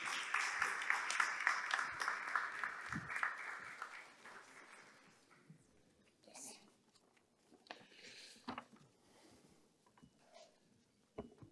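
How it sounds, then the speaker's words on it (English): An audience applauds a Prime Minister of Guinea at a conference on global investment, with dense clapping at first that thins and fades into a quieter hall with scattered sounds. "Sous vos applaudissements, s'il vous plaît."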